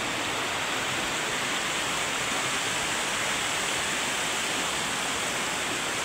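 A creek on abandoned land on an island flows with a constant broadband rush of water. The sound is steady and even throughout, with no voices.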